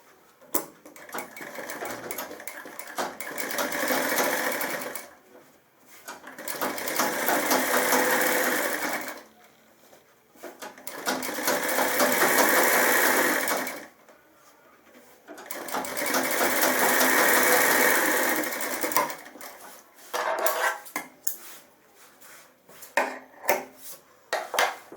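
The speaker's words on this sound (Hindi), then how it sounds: "इस पे हम कच्ची सिलाई, एक लंबी मशीन की चाल करके, तो ये लंबी सिलाई मार देता हूं मैं।" Sewing machine running long basting stitches on a shirt body, its motor whirring in four sustained runs of a few seconds each, with short pauses between them and clicking handling sounds toward the end.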